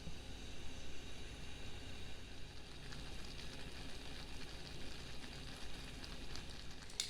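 A pot of chocolate peanut butter oatmeal no-bake cookie mixture at a rolling boil on the stove, giving a steady, close, sizzling hiss with faint bubbling that runs unbroken throughout.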